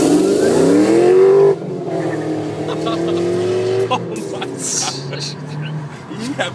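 A car launches from a dig in second gear with traction control off, engine revving hard up close and then easing off as it pulls away, while people talk over it.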